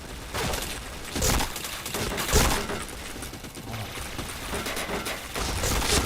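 Rapid bursts of gunfire from a shooting video game, with repeated sharp shots and volleys running through the whole stretch at steady, fairly loud level.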